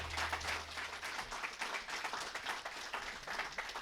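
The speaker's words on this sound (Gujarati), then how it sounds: "એકવાર જોરદાર તાળીઓથી વધાવી લઈએ દીપક દોશી" An audience applauding to welcome a speaker, Deepak Doshi, at a talk event: a steady wash of many hands clapping, fairly faint and distant, with no voices over it.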